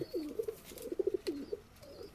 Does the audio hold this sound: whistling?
no